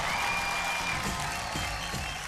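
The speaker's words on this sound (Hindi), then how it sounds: "जोरदार तालियां हो जाए जैक के लिए।" A TV dance show's studio audience applauds for a contestant in a short, loud, continuous wash of clapping with crowd noise.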